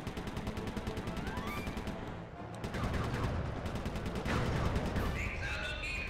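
Rapid bursts of gunfire from the video game Sly 3: Honor Among Thieves, repeated shots over busy game sound effects, with rhythmic firing continuing throughout.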